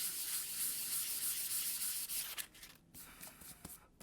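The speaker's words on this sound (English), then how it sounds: "And I can sand this pretty smooth." Sandpaper rubs over primed EVA foam in steady, close, hissy strokes, breaking into shorter scrapes with brief pauses toward the end.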